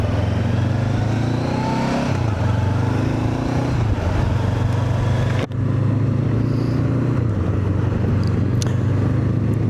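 A 47-horsepower Honda NX500 motorcycle being ridden, its engine droning steadily and close with shifts in pitch as it accelerates and changes gear, under constant wind rush and with no talk.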